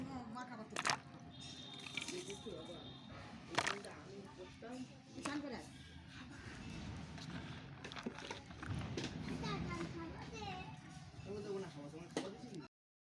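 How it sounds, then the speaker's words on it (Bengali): Jujube fruits being washed by hand in a large basin, soft splashing, dripping and squishing with occasional knocks, faint under someone talking throughout. "এরপর এর মধ্যে আমি কুলগুলোকে দিয়ে ধুয়ে নেব।"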